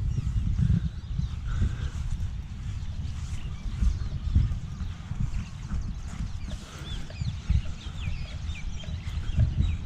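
Red junglefowl chickens call and cluck close by outdoors in Hawaii, against a steady low rumble of wind or surf; intermittent chirps from other birds sit high above.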